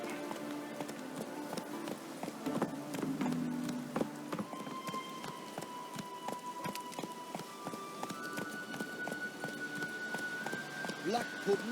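Hooves of the horse Roach running in The Witcher 3, a steady clip-clop rhythm carried across the whole stretch, fairly quiet and mixed with game ambience and tonal music.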